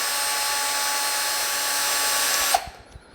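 Power drill boring into the plastic of a Commodore 64 keyboard, a steady high whine that stops abruptly near the end, followed by a few faint clicks and handling knocks.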